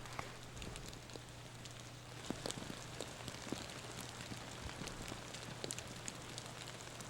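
Light rain patters steadily over a disc golf course, with scattered drops ticking against surfaces under a faint, constant hum.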